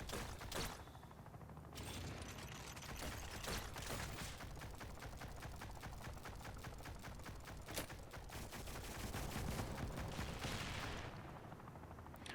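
An attack specialist unit in the video game The Pursuit fires a long stream of evenly spaced, slower gunshots, a dense continuous volley of sharp reports with clattering mechanical noise beneath.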